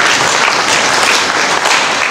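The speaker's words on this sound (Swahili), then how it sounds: "Naomba tuwapigie makofi mengi sana." An audience of teachers and guests at a secondary-school awards ceremony in Bunda District applauds, loud dense clapping that holds steady throughout.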